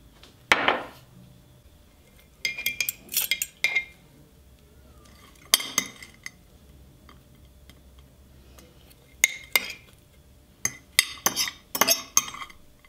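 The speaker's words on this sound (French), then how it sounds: "Il ne reste plus qu'à mettre dans le bocal." Drying peppers go into a glass jar with plenty of olive oil. Sharp glassy clinks and knocks come in scattered clusters with quiet gaps between them, close and clear with no talking.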